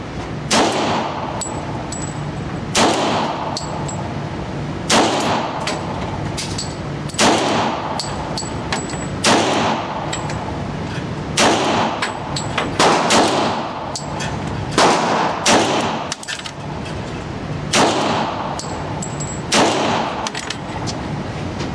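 A Beretta 96A1 pistol fired repeatedly at a shooting range, with about a dozen loud, sharp reports spaced one to two seconds apart, each ringing out briefly over a steady background.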